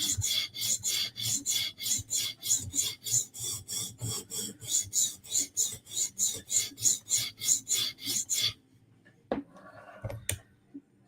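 A knife edge is sharpened by hand with a rapid, even run of rasping strokes, about two per second, close up. The strokes stop after roughly eight seconds and a few faint handling knocks follow.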